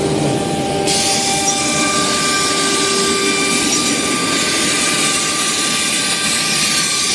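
A CNC machine cuts while an air blast clears dust from the slot, giving a loud, continuous broadband rush with steady whining tones from the spindle, unbroken throughout.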